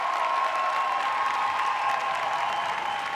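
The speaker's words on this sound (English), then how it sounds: "Kirill and Polina taking the applause there." Sustained applause from a Latin dance competition audience at the 2017 UK Professionals, for dancers Kirill and Polina: steady, dense clapping and crowd noise filling the whole stretch, with no talk over it.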